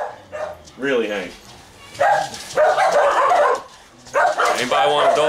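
A dog barks and yips in several sharp bursts, close and loud, with a whimpering tone between, while a person talks.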